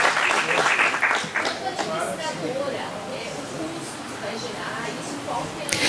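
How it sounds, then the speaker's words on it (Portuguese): A room of people at a condominium assembly in Curitiba, Brazil, claps for a few seconds, loud at first and then thinning out as voices talk over the fading applause. "Então, palmas para eles."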